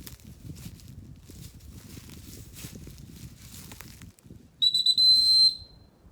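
A recall whistle blown for a dog during training sounds in a few sharp, loud, high blasts near the end, after a stretch of quiet footsteps and rustling on the ground.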